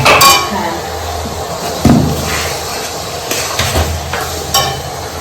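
Fried onion and capsicum tipped back into a pan for chili chicken: a few hard metallic clanks and scrapes of a utensil over a thin, steady sizzle, close and fairly loud.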